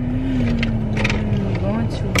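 Inside a moving car, a steady low road and engine drone runs throughout, with soft voices and light interior noises on top.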